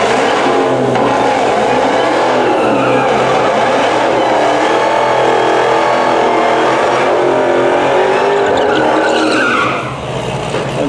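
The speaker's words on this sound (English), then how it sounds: "we got the Demon170 making his final pass of the night here" A Dodge Demon 170 drag car makes a quarter-mile pass on a drag strip, a loud, sustained roar of engine and tires that holds steady for about ten seconds before dropping slightly at the end.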